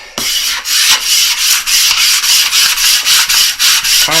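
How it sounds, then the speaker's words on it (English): A squeegee scrapes repeatedly across a homemade semi-truck mud-flap for a Kenworth K100, producing close, loud rubbing strokes in a steady rhythm of roughly two passes per second. "squeegee it down"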